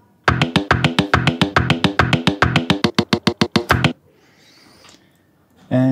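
A sampled vacuum cleaner tone played as a keyboard riff: a rapid, evenly pulsed run of about twenty loud pitched notes over nearly four seconds, then near silence and a final note.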